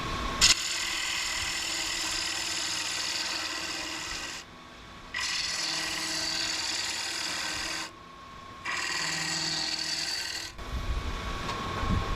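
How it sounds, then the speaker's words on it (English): A round nose scraper works the inside of a wooden turkey call, giving a steady, close scraping rasp in three long passes separated by brief pauses. "Use a round nose scraper here to get down to the bottom."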